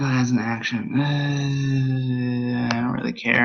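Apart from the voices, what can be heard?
No everyday noise stands out behind the speech.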